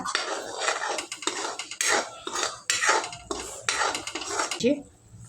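A thick cardamom-flavoured sweet mixture is stirred and mixed in a pot, with a spoon scraping and clanking against the metal in repeated loud strokes, close by, before ending abruptly.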